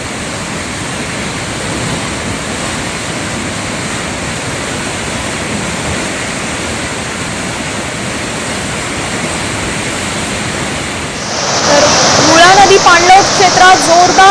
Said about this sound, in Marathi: धरणातून मोठ्या प्रमाणात जायकवाडीच्या दिशेनं पाण्याचा विसर्ग होतोय